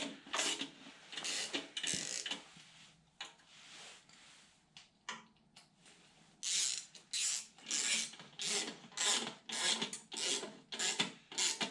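Ratchet lightly tightening oil pan bolts on a Dodge 318 5.2L Magnum engine, quick clicking bursts in short repeated strokes, close and crisp, with a few pauses between bolts.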